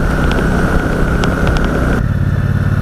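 Engine of a 2018 Triumph Speedmaster 1200cc motorcycle running steadily up close on a roll-on, a loud continuous low rumble that holds even throughout, with no talk over it.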